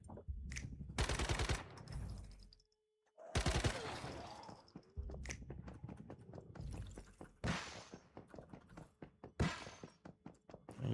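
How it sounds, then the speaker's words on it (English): Gunfire in the survival shooter Once Human, aimed at the player: sharp bursts of shots in several loud clusters, separated by a brief quiet gap, over low game ambience with no talk. "Where are you shooting at me from?"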